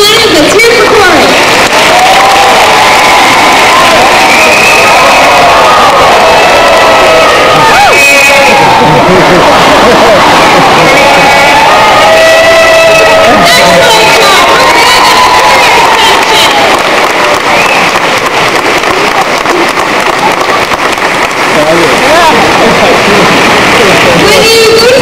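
A loud, sustained crowd roar of cheering and clapping for an acrobat named Corey landing, with shrill children's shouts rising and falling over steady applause throughout.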